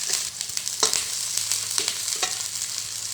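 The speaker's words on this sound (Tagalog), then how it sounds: "Nagisa na nga rin po pala ako ng bawang dyan. At sinunod ko na rin po itong sibuyas at sili." Garlic, onion and chili sauté in a hot pan with a bright, steady sizzle, broken by a few quick stirring scrapes.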